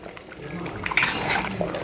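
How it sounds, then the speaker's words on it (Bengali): A large batch of meat braises in a pot and is stirred, giving a soft wet sizzle and shuffling slosh, with a brief scrape partway through and faint voices in the background. "মাংস কষানো হচ্ছে"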